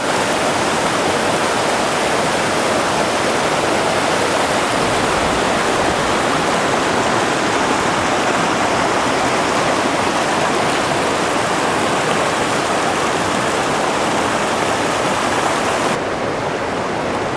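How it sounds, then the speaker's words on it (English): Waterfalls and a stream along Pine Creek Trail in Sabrina Basin, a constant broad rushing roar of falling and flowing water, loud and unbroken throughout with no voices. "Very nice waterfalls."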